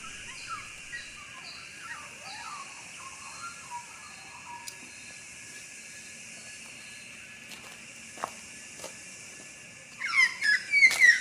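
Birds call in open outback country near Yanga Woolshed, Balranald, New South Wales: faint scattered chirps and whistles over a steady hiss of insects or wind, with a louder burst of calls near the end.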